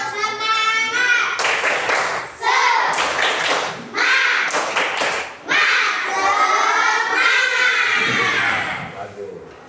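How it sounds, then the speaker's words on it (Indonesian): Schoolchildren in a classroom perform a rhythmic spirit clap, chanting and shouting loudly in unison between sharp, patterned bursts of clapping. "coba tepuk semangat dulu."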